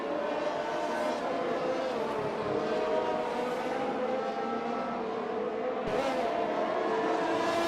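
Race cars in a sim racing game battle for third place, a continuous, loud, steady engine drone with shifting pitch and occasional brief surges.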